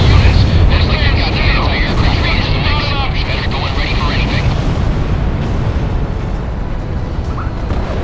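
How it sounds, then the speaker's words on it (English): An enemy tank blows up in the Ace Combat 6 combat flight game, a loud, sustained rumbling blast layered over dense battle noise and radio-style chatter, with crackling debris running through the whole stretch. "Enemy tank has been destroyed."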